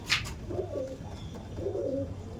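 Andhra Madrasi pigeons, an original-breed young male and female pair, give soft throaty coos in two bursts after a brief sharp click at the start, close and fairly quiet.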